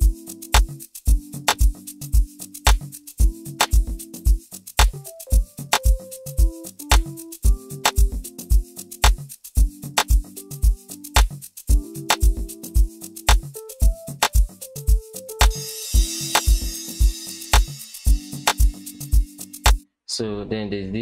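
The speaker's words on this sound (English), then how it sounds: "So playing the keys together with the drums sounds like this." FL Studio remake of a song, with a keys pattern over drums: crisp, evenly spaced percussive hits drive a steady groove beneath short chordal key stabs, building to a noisy crash swell and a brief break near the end.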